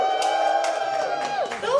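Cheers and whoops from the audience at a matchmaking comedy show in Berlin ring out for contestant number three, a brief lively swell of many voices close by.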